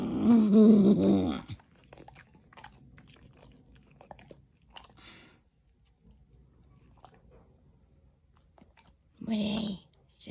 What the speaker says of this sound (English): You're gonna have fun licking the plate,